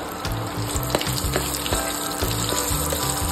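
Colocasia leaf rolls sliding into hot oil seasoned with asafoetida, a steady close sizzle and bubbling frying sound with no voices.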